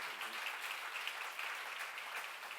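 A church congregation claps in unison in a quiet, distant patter that holds steady for a couple of seconds. The applause is soft and diffuse, with no voices over it.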